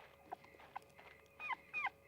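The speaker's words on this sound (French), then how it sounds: "On entend une sorte de petit chien." A small dog whimpers faintly in the video game Rule of Rose, a few soft, high, wavering whines rising in pitch, with brief quieter yelps before them.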